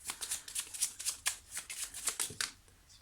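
Tarot cards are shuffled and drawn in a quick run of crisp, papery riffles and flicks, close and fairly quiet, with no talking.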